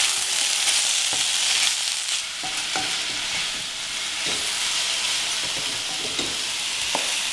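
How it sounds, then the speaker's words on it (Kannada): Chicken tikka stir-fry with spices is stirred in a sizzling pan, with a steady fry hiss and repeated scraping clicks of the spoon throughout, fairly close, with no talk. "ಹಾಕಿಬಿಟ್ಟು ನಿಧಾನಕ್ಕೆ ಮಿಕ್ಸ್ ಮಾಡ್ತೀವಿ"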